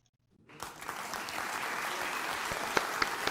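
Studio audience at a talk show bursting into applause after near silence, the clapping swelling within half a second into sustained, dense crowd clapping with a few sharper individual claps standing out.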